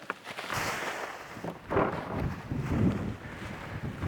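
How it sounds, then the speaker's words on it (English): Gusty wind buffeting a microphone outdoors on a breezy fall day, a broadband rumbling roar that swells in uneven surges throughout, loudest around the middle, with no talking. "It's a little breezy out here today, so forgive the wind."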